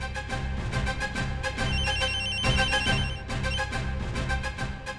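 A telephone rings on and on with a steady repeating electronic ring, loud and close, and nobody picks up.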